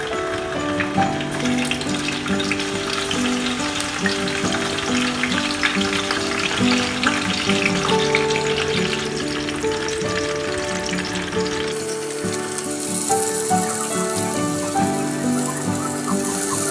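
Pork belly frying in hot oil, a loud, dense, continuous sizzle and crackle close up, alongside steady tonal background music, with no talk.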